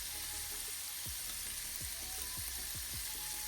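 Chicken frying in a pan on high flame until golden brown gives a steady, loud, close sizzle throughout, with a few soft low thumps from stirring.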